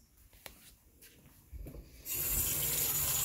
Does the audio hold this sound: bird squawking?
no